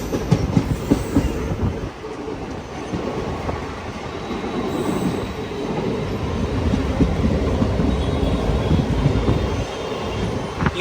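A Jan Shatabdi Express train runs between Haridwar and Dehradun, heard from on board as a steady loud rumble of wheels on rails with rhythmic clacking and occasional faint squeals, continuing throughout.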